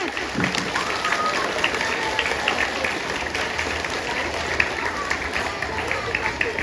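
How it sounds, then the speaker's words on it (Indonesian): Schoolchildren at an outdoor flag ceremony clap together in a steady, dense round of applause that runs throughout, with crowd murmur around it. "Coba berikan tepuk tangan sekali lagi,"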